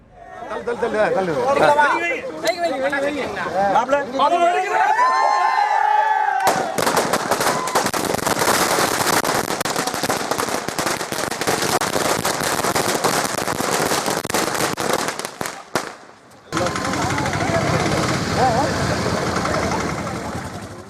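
Firecrackers burst in long, dense crackling volleys at a street celebration in Avinashi, loud and close, following a stretch of voices talking and shouting.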